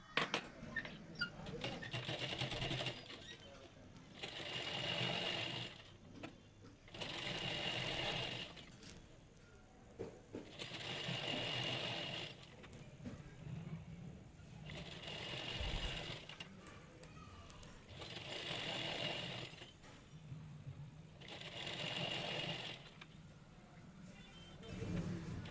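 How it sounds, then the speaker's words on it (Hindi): A sewing machine stitches the side seam of palazzo pants in repeated steady runs of rapid mechanical clatter, each lasting a second or two, separated by brief pauses, close and fairly quiet. "इस तरीके से साइड की सिलाई पूरी कर लेंगे।"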